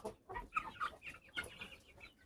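Guinea fowl cluck faintly at a distance, a few short, scattered calls in quick succession.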